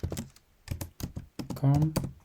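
Quick clusters of computer keyboard keystrokes tap out close and crisp, a short burst of typing in a few rapid groups.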